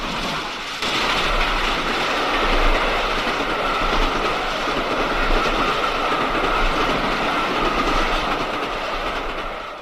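A steam locomotive hauling a stopping passenger service speeds by with a loud, continuous roar and rapid clickety-clack of wheels on rail joints, close and sustained for the whole passage.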